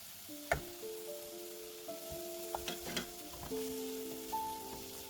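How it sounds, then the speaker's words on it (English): Vegetables and fish stir-frying in a pan with scattered clicks and scrapes from stirring over a soft, constant sizzle, faint and close, with some thin ringing tones drifting through and no talking. "I mix everything together till well combined and stir fry for like 2 minutes"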